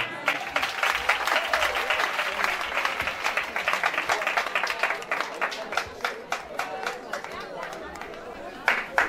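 A church congregation applauding, sustained dense clapping from a crowd that thins into scattered claps with voices mixed in.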